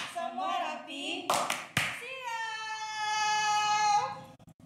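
Children chant the rhythmic "tepuk rapi" clapping game, voices singing a sustained, tonal melody, punctuated by a few sharp, close hand claps early on.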